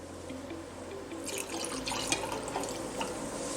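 Water runs and splashes steadily into a laboratory container holding ethanol, mixing a half-ethanol, half-water solution, for a few seconds, growing fuller and louder partway through, with small drips and clinks.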